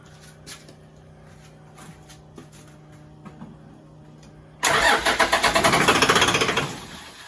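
After brake clean is sprayed in, an engine in a vehicle with power steering and fuel problems cranks loudly and rhythmically for nearly three seconds following a quiet stretch of faint clicks, then stops without catching.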